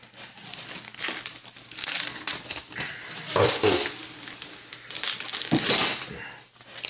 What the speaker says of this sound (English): so then you can just grab it and peel back